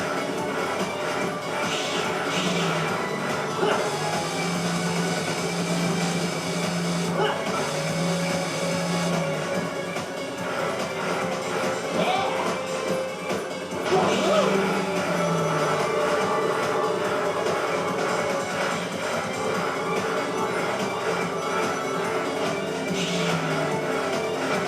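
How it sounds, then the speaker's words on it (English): A character grinding along electrified rails in a video game, producing a continuous buzzing, metallic grind that carries on unbroken with small swells in intensity, set over busy game sound. "we're going to go ahead and grind on those electrifying rails"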